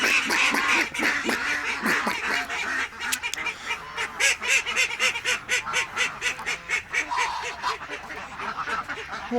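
Geese honking loudly and nearby, a dense run of rapid repeated honks and cackles that grows more rhythmic and continuous, with faint talking at the start.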